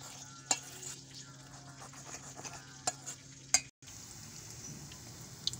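Eggplant omelette (tortang talong) frying in a pan, a steady close sizzle with occasional sharp clicks of a utensil against the pan.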